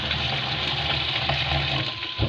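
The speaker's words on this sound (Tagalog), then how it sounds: "Lagyan ng tubig." Water pours from a tap onto bitter gourd being washed, a steady close splashing gush that runs throughout without pause.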